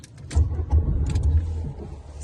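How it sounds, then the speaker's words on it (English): A 1.2 petrol Fiat Panda engine stalls, heard up close as a few low, uneven chugging thumps that shudder and fade away. "just stalled the car"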